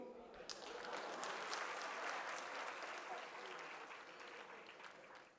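Audience applause at a literary festival, a dense wash of clapping from a crowd that swells quickly, holds steady, then slowly tapers off near the end.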